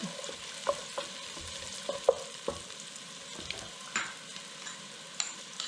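Onions fry in a pan with a soft, continuous sizzle, broken by repeated scraping and clinking as a utensil stirs them at irregular intervals.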